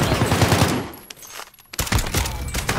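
Rapid automatic gunfire in Call of Duty Warzone, a loud close burst that pauses briefly and then resumes in another dense volley, with no talk over it.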